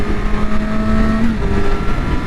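A Yamaha R6 sport motorcycle engine runs with a steady, droning tone that shifts slightly in pitch, heard close and loud for a couple of seconds.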